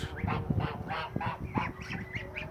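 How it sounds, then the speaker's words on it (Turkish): A flock of farmyard geese honks in a steady run of repeated calls alongside chickens, loud and close, with nobody talking. "Bu da gazlarımız bu arada."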